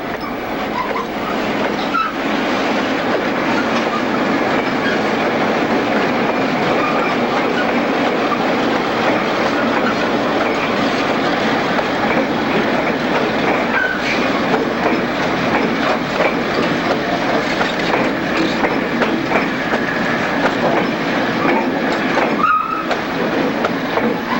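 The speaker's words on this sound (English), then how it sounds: "the crew's first task is to marshal the train" A Newfoundland Railway freight train rolls steadily along, its wheels clattering in a continuous loud rumble with rhythmic clickety-clack and occasional faint squeals, no voices over it.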